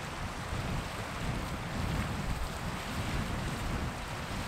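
Strong wind in the Finnish wilderness while a tent is taken down, a loud continuous roaring rush buffeting the microphone with no talk.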